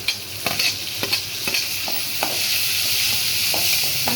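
Tomatoes tumble into a frying pan for a broad bean stir-fry, setting off a steady sizzle broken by several sharp spatula scrapes and clinks, close and fairly loud with no talk.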